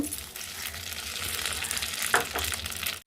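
Green chilies frying in peanut oil for tomato chutney, a steady close hiss and crackle of hot oil with a brief stirring clatter near the end, no talk.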